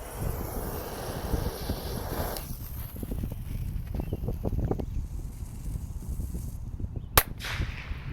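A Bullet Cracker firecracker goes off outdoors with a single sharp, loud bang late in the clip, following rustling wind noise and a brief faint crackle.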